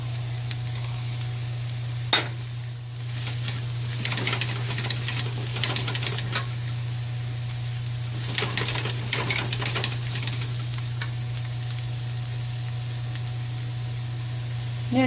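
Green chilies fry with golden onions in a pan for mutton curry, a steady close sizzle with intermittent stirring scrapes and taps, and no one talks.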